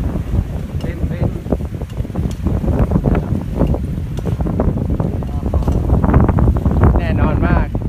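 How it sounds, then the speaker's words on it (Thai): Wind gusts across the beach on Ko Lipe island in the evening, a steady loud rush of microphone wind buffeting running throughout, with a voice speaking over it. "ลมเย็นสบาย"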